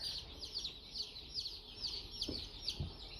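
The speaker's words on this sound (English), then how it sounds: "These are everything that I would expect from day-old chicks." Day-old hatchery chicks peep in a soft, steady chorus of rapid high chirps, faint and close, with occasional light rustling beneath.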